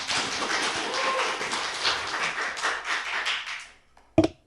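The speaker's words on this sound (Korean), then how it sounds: "예리하다. 박수." A small group in a studio claps for several seconds, a loose patter of hands that fades out and ends with one sharp thump.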